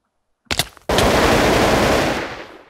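AK rifle firing in a Minecraft gun mod multiplayer match: a couple of quick shots, then a loud, sustained automatic burst lasting nearly two seconds that fades slightly at the end, no voices.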